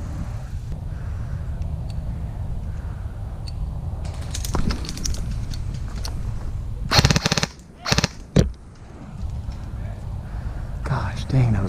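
Airsoft gunfire in a field game, with bursts of sharp cracks from an EMG Warthog custom M4 rifle and opposing players, loud clusters midway amid background noise and quiet voices talking.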